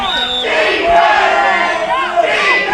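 Chorley supporters at an under-13 American football final yell and cheer from the stands. The loud crowd roar carries rising whoops and shouted cries that swell and fall across a short burst.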